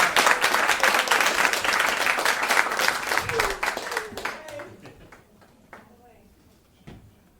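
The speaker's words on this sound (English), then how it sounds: "let's give her a nice round of applause." An audience at a summer evening storytelling event breaks into a warm round of applause, dense clapping that fades out over several seconds into scattered claps and room noise, with a voice speaking briefly.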